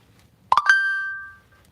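A quick electronic notification chime: a few rapid plucked tones that settle into a single ringing note, fading out over about a second in quiet surroundings.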